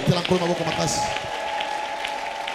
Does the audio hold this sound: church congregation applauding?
yes